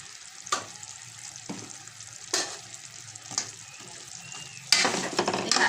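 Sweet potatoes frying in caramel sizzle steadily while a spoon stirs through them, giving several distinct scraping and clattering strokes, ending in a louder burst of bubbling sizzle. No one speaks.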